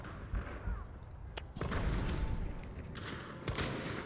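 Shotgun blasts in Hunt: Showdown 1896, a couple of loud booming shots with a sharp one near the start and another later, over dense game ambience.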